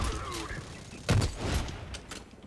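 Gunfire in the online shooter Blacklight Retribution, a dense spray of shots and thuds with one heavy blast near the middle, mixed with game noise.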